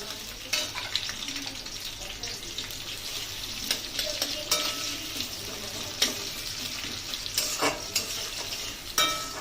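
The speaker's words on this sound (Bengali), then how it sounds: "পেঁয়াজটাকে হালকা করে ভেজে নিতে হবে।" Steady sizzling of onions frying in a pan with repeated scraping and stirring clicks from a utensil, continuing throughout without talk.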